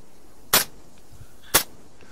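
Rifle fire in the ARMA 3 video game: two sharp, cracking shots about a second apart over a quiet, faint background.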